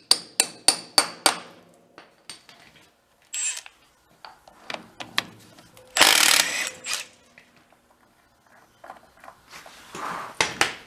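A tool works loose the nuts on the wheel of an old Batmobile that sat 40 years under a tree. It gives sharp repeated mechanical bursts and clanks, close by, in short clusters with pauses between them.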